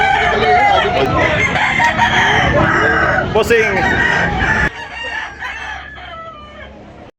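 Roosters crow and chickens cluck loudly at a rural market in Talisay, Cebu, close and overlapping, with someone talking among them.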